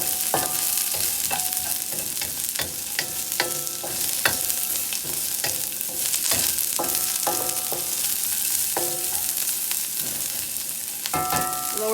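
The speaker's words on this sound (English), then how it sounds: "And then we will put our beans. Saute it for a little bit." Beans sautéing in a cast iron skillet for a chicken cashew stir fry, a constant bright sizzle with repeated metallic clinks and scrapes of a utensil against the pan, close and steady, no speech.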